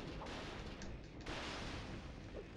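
An electric cannon fires in The Legend of Spyro: A New Beginning on PS2, giving a burst of sharp crackling blasts that sound quiet and distant over a noisy game soundtrack.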